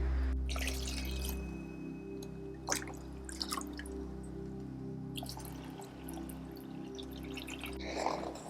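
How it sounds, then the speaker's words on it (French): Water poured and dripping into an aquarium filter to fill and prime it, for a low-tech tank housing davidi shrimp; close trickling and splashing over a steady low pump hum, with a few sharper drips. "on va déjà le remplir d'eau pour le pré-amorcer"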